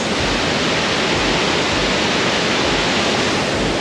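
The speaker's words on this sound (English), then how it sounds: "I'm pretty sure it's the last of the waterfalls because it looks like this" A waterfall near Luang Prabang, Laos, roars in a loud, dense, unbroken rush of falling water close by, with no voices over it.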